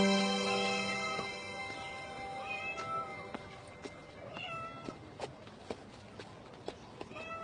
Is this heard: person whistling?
no